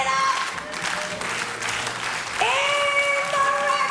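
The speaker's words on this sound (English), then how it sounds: "Let's get a slow clap going first of all." Crowd applause at a chessboxing fight night, a dense continuous clatter of hands under a loud voice, with no clear slow rhythmic build audible.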